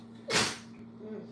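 A single sharp sneeze bursts out near the mic, a quick breathy explosion over a steady low hum, followed by quiet.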